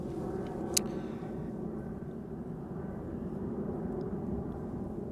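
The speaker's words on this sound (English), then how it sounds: "flight 450, arriving from Zagreb, A319" An Airbus A319 airliner arriving at Amsterdam Schiphol Airport gives a steady, low, distant engine rumble with no clear rise or fall, and one faint click early on.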